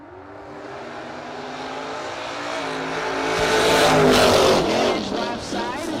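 Drag racing launch at a no-prep event, a third-generation Chevrolet Camaro in the left lane alongside another car, engines swelling from a steady roar to a loud, rising rev peak near the end, close and continuous.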